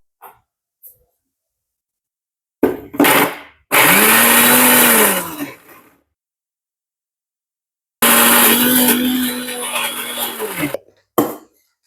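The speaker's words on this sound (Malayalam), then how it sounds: "തേങ്ങ പൊട്ടിച്ചെടുത്ത് മിക്സിയിൽ കറക്കിയെടുക്കുന്നത്" Two loud bursts of a mixer grinder whirring as it blends coconut, each a few seconds long, separated by silence, with a few short knocks in between.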